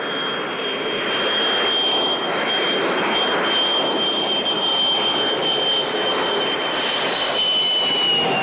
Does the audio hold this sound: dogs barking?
no